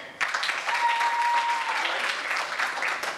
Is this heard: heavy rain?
no